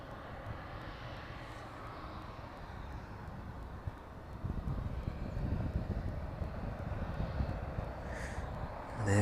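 At East Midlands Airport, an aircraft's engine roar hums steadily, then swells louder midway and holds as a broad rumble, with no talk.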